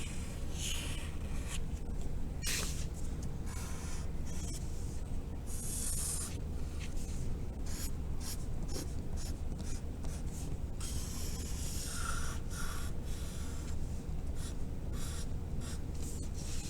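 Pastel sticks rub and scratch across paper while a goldfish outline is colored in, a steady close dry scraping with rhythmic strokes and short bursts, no talking.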